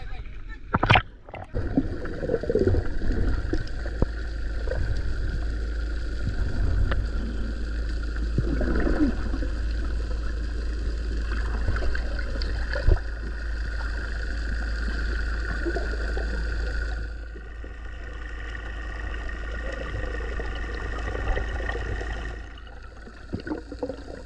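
A strong river current rushes steadily past a boat while fish traps are hauled in, a constant low roar with splashing and gurgling, under intermittent voices talking.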